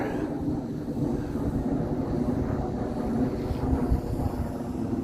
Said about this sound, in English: There's another jet flying over.